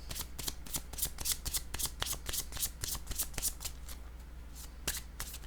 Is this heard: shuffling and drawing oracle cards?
yes